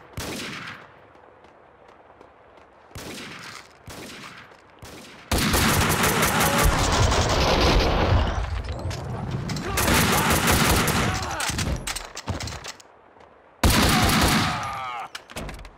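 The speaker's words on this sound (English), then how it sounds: "someone's shooting at him" Gunfire in the video game Max Payne 2 comes as loud, dense bursts of automatic fire, in long sustained volleys with short gaps and a few isolated shots between them.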